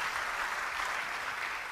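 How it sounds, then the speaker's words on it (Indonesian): A church congregation claps together in a steady, dense wash of applause at moderate distance, continuous with no pauses and no talking over it. "Yang setuju beri tepuk tangan bagi dia."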